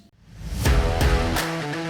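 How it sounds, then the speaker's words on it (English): A faulty air conditioner compressor gives off a loud, harsh broadband rattle and whoosh, swelling after a short quiet start, with repeated pulses and a steady droning hum underneath. "If your compressor or if your AC unit or your box sounds like this."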